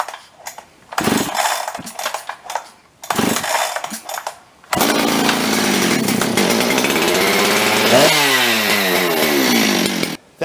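A Husqvarna 390xp chainsaw with a freshly cleaned, empty carburetor is pulled over in two short cranking bursts, then catches and runs loudly and steadily, its engine note rising to a higher rev near the end.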